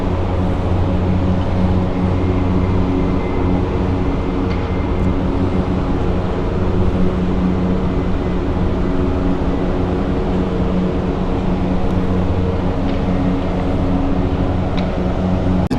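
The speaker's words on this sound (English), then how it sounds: "Embraer 190 of Finnair going to Romani" A Finnair Embraer 190 jet at Helsinki Airport gives a loud, sustained engine roar and rumble that holds steady and broadband throughout, with no talking.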